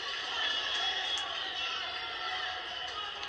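Crowd in the stand cheering at the 2020 Kilkenny Intermediate Hurling Final, a sustained roar of voices and whoops spread across the ground, steady and fairly loud throughout.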